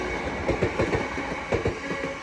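A Class 466 electric train passes at New Cross on the South Eastern Main Line, bound for Dartford, its wheels beating out a rhythmic clickety-clack over rail joints with a steady rolling rumble beneath.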